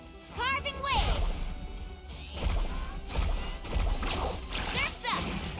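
Water splashing and crashing in Genshin Impact as a character surfs and carves through waves, with repeated loud splashes over busy game music and effects, while a voice speaks over it.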